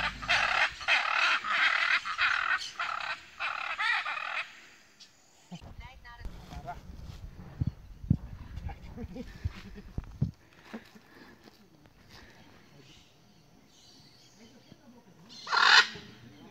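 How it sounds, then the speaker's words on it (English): A parrot in Brazil sings in a run of loud, repeated bird calls over the first few seconds, followed by quieter rustling and scattered noises, with another sharp call near the end. "now parrot sings"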